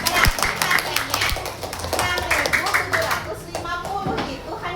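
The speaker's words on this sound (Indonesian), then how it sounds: "Tepuk tangan buat Kaila" Classroom clapping for a student named Kaila, a short burst of many hands clapping with children's voices mixed in, fairly close.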